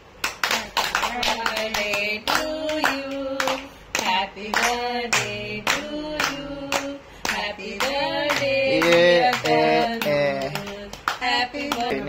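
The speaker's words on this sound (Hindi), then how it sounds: "बच्चों मारो ताली।" Children clapping at a family cake-cutting at home, with a quick run of rhythmic claps throughout, joined by voices singing or talking along.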